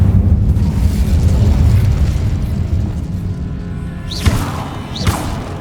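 In a Harry Potter video game, the Incendio fire spell goes off with a low, rumbling whoosh of flame, followed by two sharp rising magical zips near the end.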